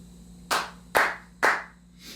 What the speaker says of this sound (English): Those are my 3 claps.